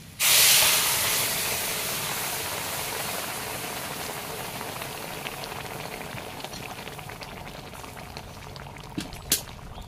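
Boiling dal poured into a pan of hot tempering with fried onion and dried chillies bursts into a loud hissing splash, then settles into a steady bubbling simmer with a few faint clinks.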